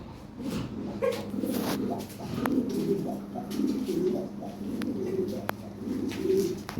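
A pair of Lahore Siraji pigeons, large birds, coo in low repeated rolling phrases close by, over steady background noise and scattered clicks, with a brief dog-like bark tagged among them.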